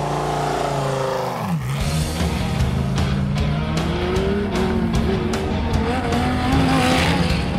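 A Lamborghini Gallardo race car drives past with loud, continuous engine roar and rising and falling pitch, tyres squealing and skidding briefly, close and dominant for the whole stretch with no talk over it.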